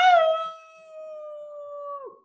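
A person imitates a wolf howling during a storytime reading of a children's book, producing one sustained, tonal howl. It starts loud, holds steady for about two seconds, then drops off sharply at the end, with no other sounds.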